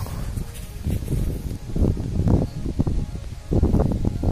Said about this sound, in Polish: Trochę wieje, także obracam się tyłem do wiatru, żebyście mnie słyszeli.